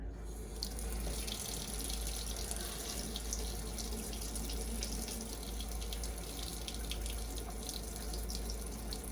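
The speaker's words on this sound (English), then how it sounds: "I'm just going to put a little water in here, and then just fill it up a little bit more." Water runs steadily into a liquid-filled Christmas display ornament being repaired, a continuous faucet-like trickling and splashing hiss that stays even throughout, fairly close, with no talking.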